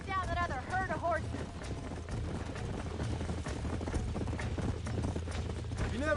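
Horse hooves clip-clopping at a steady walking rhythm in the Red Dead Redemption video game, a continuous close patter running throughout beneath game music, with a brief horse whinny near the start.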